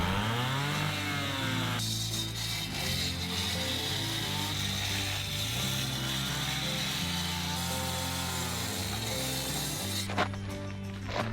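Power saw cutting into concrete on a parking project, a loud, continuous close-up grinding whine with shifting pitch throughout, no talking.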